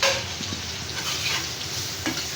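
Domor vegetable bhaji, a North Bengal dish, sizzles in a hot pan while a utensil stirs and scrapes it, with a constant hiss and occasional soft knocks up close.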